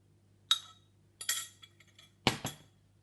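A fork clinks against a jug while eggs are gently whisked for a chocolate brownie batter, a few sharp, close metallic taps in quick short bursts with quiet between them.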